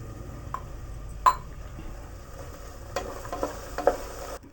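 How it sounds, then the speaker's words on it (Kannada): Soaked peas frying and being stirred in a pan of ghee for ghee rice, a soft steady sizzle with a few scrapes and clinks of a spoon against the pan. "ಚೆನ್ನಾಗಿ ಫ್ರೈ ಆಗಬೇಕು."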